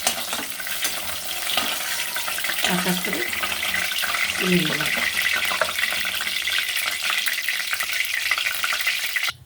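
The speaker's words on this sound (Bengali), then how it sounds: "এবার ওই তেলের মধ্যে যে পটল আমি সিদ্ধ করে রেখেছিলাম, পটলগুলো আমি দিয়ে দেবো।" Boiled pointed gourd fries in a pan of oil with a steady close sizzle and a few soft scrapes as pieces are lifted out, while someone speaks briefly over the cooking.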